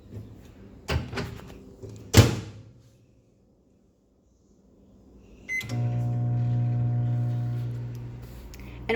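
A microwave oven cooking an egg in an egg cooker: a couple of door clunks and a sharp slam, a short pause, then the steady low hum of the running oven, close and alone.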